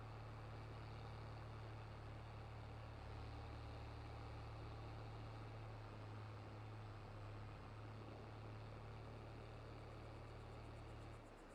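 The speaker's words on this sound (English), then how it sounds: "Does not like pulling that up the hill." Tractor engine in Farming Simulator 22 labouring uphill under load, a loud steady low drone with a strong sustained hum held throughout.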